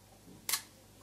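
A Zorki 3 camera shutter fires once at a slow speed, a single faint mechanical snap against a quiet background.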